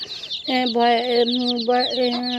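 Desi hens and chicks cluck and peep close by, with a sustained hen call wavering over high, rapid chick chirps.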